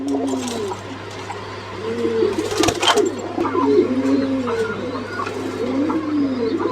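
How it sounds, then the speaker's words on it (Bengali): Red spread Mukhi pigeons coo in repeated soft, rolling calls close by, several birds overlapping, with a brief rustle of movement in the middle and steady background hum. "দুই নাম্বার এক জোড়া কবুতর দেখতে পাচ্ছি এটা রেড স্প্রেড মুখী"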